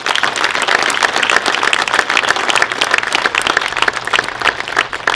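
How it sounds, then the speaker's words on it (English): Dense, steady applause from an audience at a Los Angeles Dodgers fan event, loud and sustained for several seconds with no talk over it. "Please join me in a big round of applause for these dedicated people."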